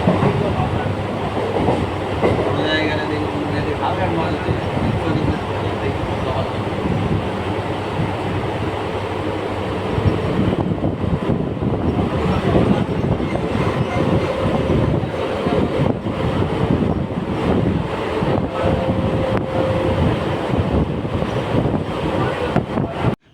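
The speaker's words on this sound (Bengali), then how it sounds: "আমাদের ট্রেনটা দেখো একদম সোজা বেরিয়ে গেল" A local passenger train on the Sealdah–Namkhana line rolls along the rails with a continuous loud rumble, rhythmic clatter and wind buffeting, heard from inside the moving train throughout.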